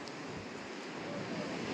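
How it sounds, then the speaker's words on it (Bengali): Sea waves on the Bay of Bengal shore at Gobardhanpur island in the Sundarbans roll in as a steady, low wash, moderately quiet and distant, swelling slightly toward the end. "সারা দিন সারা রাত সমুদ্রের ঢেউয়ের আওয়াজ শুনতে হচ্ছে ওনাকে"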